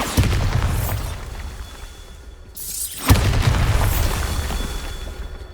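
Two loud booming blasts of the Bombarda explosion spell in Hogwarts Legacy, one at the start and another about three seconds in, each followed by a rumbling, crackling tail.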